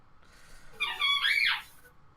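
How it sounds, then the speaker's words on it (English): A squeaky toy gives a short, high-pitched squeak lasting under a second, fairly close and standing out against quiet background hiss with no talk over it. "It sounds like a squeaky toy."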